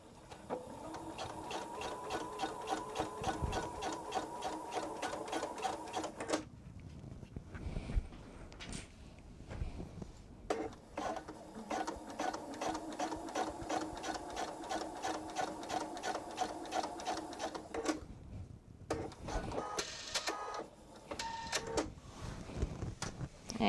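A sewing machine stitches a quilted travel tote in long, steady runs of rapid mechanical chatter, pausing briefly between seams before starting up again, close and loud with no talking.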